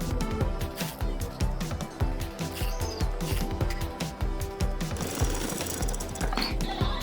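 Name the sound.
sewing machine stitching a student gown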